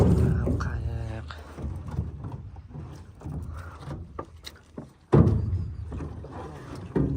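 A fishing boat moves on the Amu Darya river near Shortepa in Balkh, with uneven low rumbling, scattered knocks and a sudden loud burst midway through the stretch.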